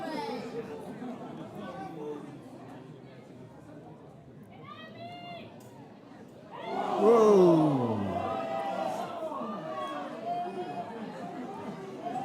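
Spectators at a European Touch Cup 2025 touch rugby match chatter steadily, then swell into a loud burst of cheering and shouting midway before settling back to a lively crowd murmur.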